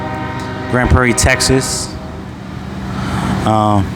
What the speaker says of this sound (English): You probably hear that train in the background.